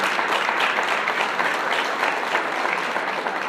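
A convocation audience breaks into sustained applause, a dense, even wash of many hands clapping at once that holds steady throughout with no voices on top.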